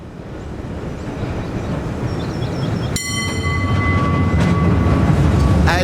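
A San Francisco cable car rolls along its rails with a steady, close rumble, and a sharp metallic ring or squeal joins in about halfway through and stays above the noise.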